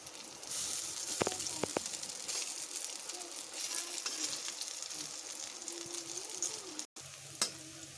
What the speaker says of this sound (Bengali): এবার আমি এগুলোকে বড়া আকারে ভেজে নিচ্ছি